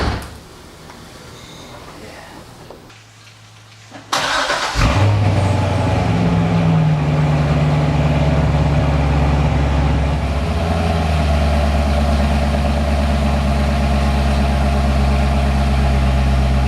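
A tracked 2013 Corvette Z06 V8 fires up after a few quiet seconds with a sharp, loud bark, then settles into a deep, rumbling idle that stays steady and close.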